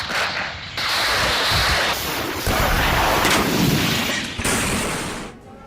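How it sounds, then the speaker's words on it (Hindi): HIMARS rocket artillery launching toward Russian positions in the Russia–Ukraine war, a loud sustained roaring blast that holds for several seconds, with a brief dip between launches, heard close and without talk. "यूक्रेनी सेना का हिमार्स से भीषण प्रहार, रूसी सेना के ठिकानों पर हिमार्स से दागे रॉकेट।"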